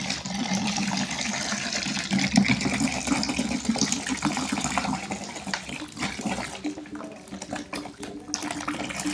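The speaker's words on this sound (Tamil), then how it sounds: "இப்போ நெக்ஸ்ட்டு அடுத்த லிட்டர் நம்ம ஊற்றிக்கலாம்" Water is poured into a mixture for homemade phenyl floor cleaner, a continuous close splashing pour with no talk.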